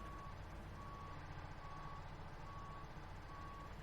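Reversing truck backing into a shop in Farming Simulator 17, a regular series of evenly spaced electronic beeps over a steady low engine rumble.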